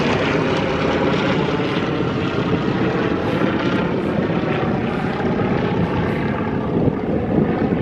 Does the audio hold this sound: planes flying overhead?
yes